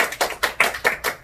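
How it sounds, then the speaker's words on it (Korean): Clapping at a small home business meeting, a close, loud run of about six rhythmic hand claps with no voices. "최정임 리더님 큰 박수로 모셔주세요."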